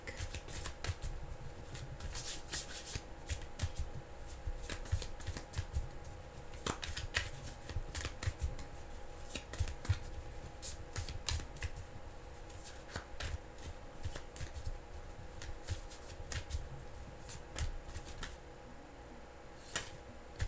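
Tarot cards are shuffled by hand for a reading in a long run of crisp riffling and slapping bursts at close range, repeated steadily over a low background hum.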